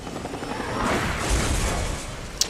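A helicopter in the Resident Evil Revelations video game gives a steady, loud rotor and engine rumble that swells slightly midway, ending with a brief sharp knock.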